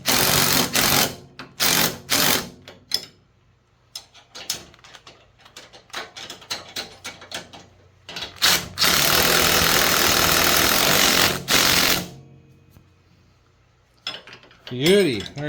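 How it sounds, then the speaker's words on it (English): Go-kart shock bolts are tightened with 17 mm tools, giving sharp mechanical bursts, some short and some sustained for a few seconds, separated by near-silent pauses and quieter clicking in between. "we're just going to tighten these shock bolts up now"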